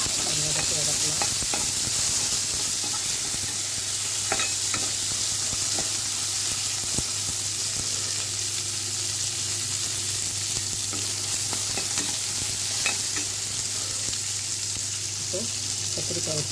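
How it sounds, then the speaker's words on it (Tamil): Curry leaves, onion and tomato sautéing in a pan for a brinjal fry, a steady loud sizzle throughout with occasional scraping stirs and light clicks of the spoon. "கொஞ்சம் கருவேப்பிலை, வெங்காயம், தக்காளி எல்லாம் போட்டு அது வதக்கலாம்."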